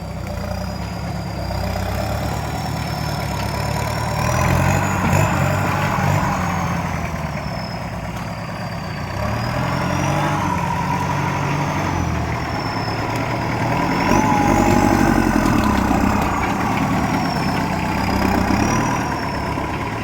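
A tractor engine idles steadily and loudly for the whole stretch, its low rumble rising and falling slightly, with a faint high whine above it.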